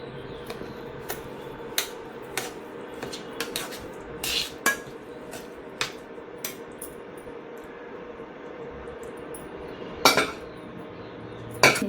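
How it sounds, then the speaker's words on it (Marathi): Sugar syrup goes into a semolina and coconut mixture in a pan for rava coconut laddoos, heard as scattered sharp metal clinks and scrapes of utensils against the pan over a quiet background, with no speech. "आता आपण हा पाक केलेला त्याच्यात ओतून घेऊ."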